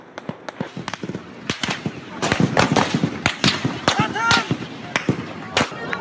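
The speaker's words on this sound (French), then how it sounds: "Ces partisans d'Erdogan sont stoppés par des tirs nourris." Heavy gunfire at night in a city during unrest in Turkey, with many sharp, loud cracks in irregular bursts, some spaced and some clustered, mixed with faint voices and crowd noise.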